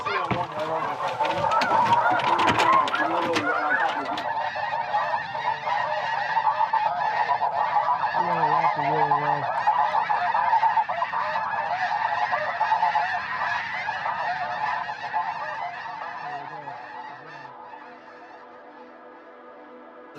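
A flock of snow geese honks during a hunt in eastern Washington on the Pacific Flyway, a thick overlapping chorus of calls that stays loud, then thins and fades toward the end.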